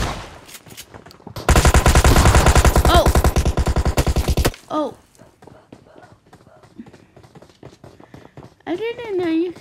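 Rapid automatic gunfire from a zombie video game bursts loud and continuous for about three seconds, then gives way to short scattered sounds, with a person talking over parts of it.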